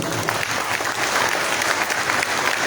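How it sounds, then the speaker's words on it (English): Audience at a grand opening and inauguration live show claps steadily, a dense burst of applause filling the whole short stretch at an even, loud level. "Give a big clap for you as well, please."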